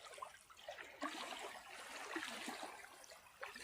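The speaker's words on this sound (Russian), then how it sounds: "Видите, опять волна прибывает сейчас." Small waves lap and splash steadily along a reservoir shore in the early morning, a continuous soft watery wash with a few slightly louder surges, fairly close and with no one talking.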